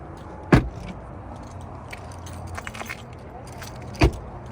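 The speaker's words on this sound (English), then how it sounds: "Door lock." Door lock actuating on a BMW i7 electric sedan, two sharp mechanical clunks a few seconds apart, close by, over a quiet cabin hum with faint rustling between them.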